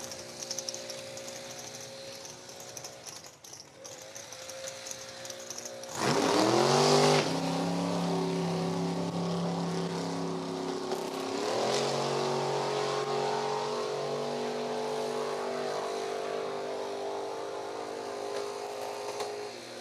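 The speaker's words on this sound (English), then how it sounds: "A beautiful Chevrolet Camaro, 1969 year model." A 1969 Chevrolet Camaro drag race car, number 471, idles roughly at a drag strip, then revs sharply into a loud, sustained engine roar that surges again and holds steady, close and powerful.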